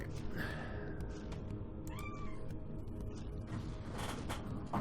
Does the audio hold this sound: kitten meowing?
yes